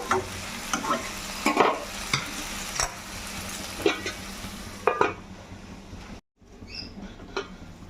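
Mutton and new potatoes being stir-fried in a kadai for a Bengali jhol, a loud sizzle broken by repeated scraping spatula strokes and clacks, ending in a short silence and softer frying.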